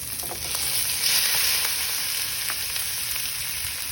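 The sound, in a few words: pork added to the pan, sizzling in a cabbage stir fry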